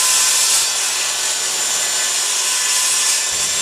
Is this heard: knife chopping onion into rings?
no